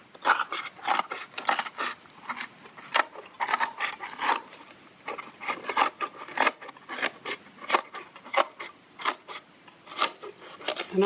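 Scissors snipping away craft material, a rapid string of crisp, close cuts with short pauses between bursts, steady and fairly loud throughout with no talking.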